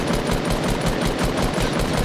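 Fortnite gunfire crackles in a rapid, steady automatic stream, loud and close, with no voices over it.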